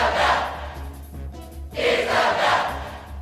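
In Super Smash Bros, a video game crowd chants a character's name in two drawn-out syllables, the cheer swelling, dipping briefly, then rising again, loud and alone.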